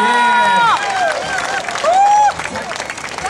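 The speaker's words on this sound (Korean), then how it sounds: "박수 보내주시기 바랍니다" An audience at the Coex Battle Get Down 2012 dance battle final applauds: a steady wash of crowd clapping and cheering runs throughout, with loud whistling or shrill cheers rising over it.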